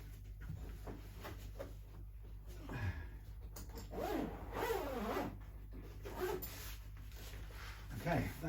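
A bag zipper is pulled closed around a guitar neck after sanding and polishing, with several rasping zip strokes close by in the middle of the clip, under and between quiet talk and light handling rustle.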